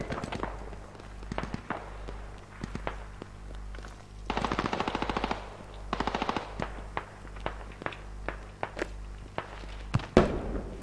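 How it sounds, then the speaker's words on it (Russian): Gunfire in the military shooter game Squad: bursts of automatic machine-gun fire and single shots at varying distance, with footsteps between them, over a low steady hum. "Да-да, что-то стреляет."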